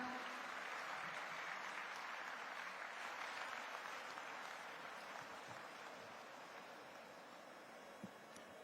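Faint, distant applause from a large audience at a ceremony, welcoming Gujarat Chief Minister Bhupendrabhai Patel to the stage. A broad steady clatter that slowly fades, with a hollow open-air hiss behind it.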